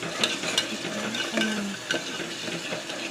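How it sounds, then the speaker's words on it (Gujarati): Paste frying in hot oil inside a pressure cooker, a soft sizzle with scattered clinks and scrapes of a spoon against the metal, close and moderately loud, with no voices. "હવે આ જે પેસ્ટ છે એ આપણે નાખીશું તેલમાં ગરમ થઈ જશે"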